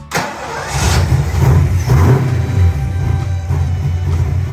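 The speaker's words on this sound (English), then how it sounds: "got the car fired up" A Ford Mustang engine, freshly fitted with new heads and cam, cranks and catches, then settles into a loud, steady mid-pitched idle with slight revs, close by and with no talking.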